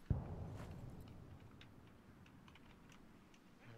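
Computer keyboard keys pressed one after another while checking key binds for the game Six Days in Fallujah: a sharp first press, then a faint, irregular clatter of light taps fading into quiet room tone.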